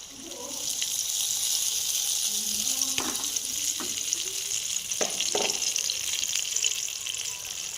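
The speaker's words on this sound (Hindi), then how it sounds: "साथ ही हम डाल देंगे ये मूंग दाल का जो पेस्ट हमने रेडी किया" Moong dal paste hits semolina roasting in a pan and sizzles in a steady, close hiss throughout, with a few clinks and scrapes of stirring over it.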